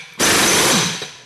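A TJ Tools impact tool undoing track bolts fires one loud, close, rattling hammering burst lasting under a second, then cuts off.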